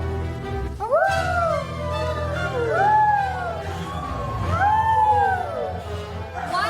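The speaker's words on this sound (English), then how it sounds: "Belle heard the low and menacing growling of wolves" Wolves howl in a wild forest setting with several rising and falling wails that overlap one another, loud and near, over a low rumbling background.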